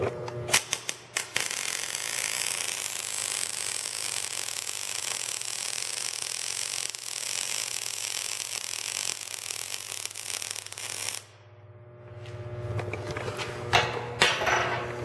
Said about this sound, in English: it completes a circuit, shorts itself out pretty much, melts the metal, melts this into it, puts the metal together